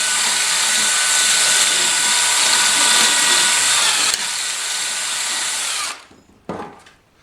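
Drill-driven hone cleaning rust and grime out of a brake wheel cylinder: a steady, loud, close whirring grind for about six seconds with a slight drop midway, then cutting off with a brief final burst.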